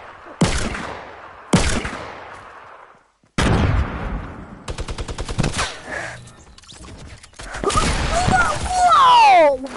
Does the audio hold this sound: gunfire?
yes